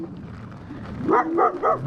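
A dog at a campsite passed by a cyclist lets out three quick, close barks that rise out of low rumbling noise near the end.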